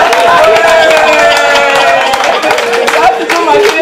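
Live studio audience at a podcast's 100th-episode session claps and cheers in a brief, loud burst mixed with voices.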